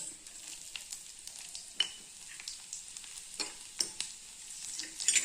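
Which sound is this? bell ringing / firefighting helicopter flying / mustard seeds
mustard seeds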